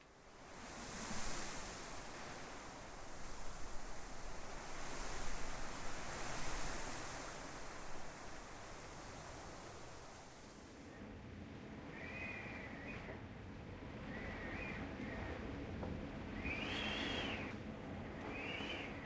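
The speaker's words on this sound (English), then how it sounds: "I like that it's windy." Wind rushes steadily through a treetop canopy in a video game, a broad hissing wash that swells and eases, with faint higher whistling tones in the later part.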